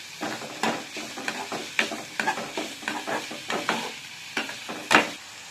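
Garam masala sizzles and crackles in hot oil, stirred repeatedly in a pan with steady scraping strokes, close and fairly loud, with no voices.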